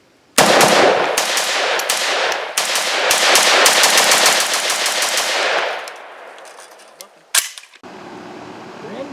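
Bren 2S pistol fired at an outdoor range, a loud rapid string of sharp gunshots for several seconds, then a pause and one more isolated shot.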